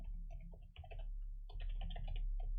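Soft, close typing on a computer keyboard while coding JavaScript, a quiet patter of key clicks in short bursts with brief pauses between them.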